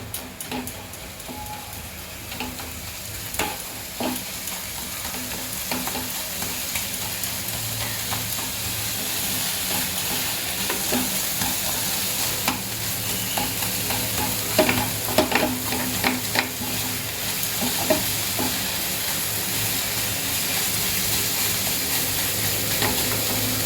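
Carrot halwa with milk is stirred in a pan, a steady close scraping and bubbling sizzle with irregular ticking knocks of the spoon throughout.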